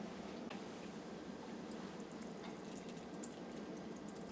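Ground acorn grit drains through fine-mesh cheesecloth, producing a faint, continuous watery trickle and hiss that holds steady throughout with no voices.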